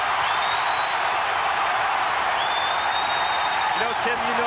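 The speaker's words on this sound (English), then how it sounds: "The crowd is alive." Basketball arena crowd cheering at a North Carolina versus Duke college game, a dense continuous roar with whistles rising above it, steady and loud from start to finish.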